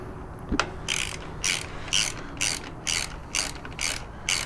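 Ratchet tightening the air filter bolts on a Road Glide Special motorcycle with an S&S Stealth intake, a regular series of about eight close clicking bursts in an even rhythm, with no talk.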